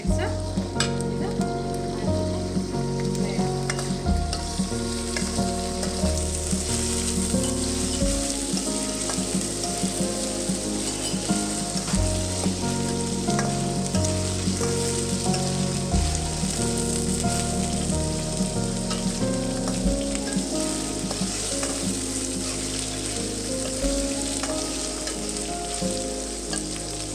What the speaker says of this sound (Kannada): ಮೂರು ನಿಮಿಷ ಇದು ಎಣ್ಣೆ ಜೊತೆ ತೊಂಡೆಕಾಯಿ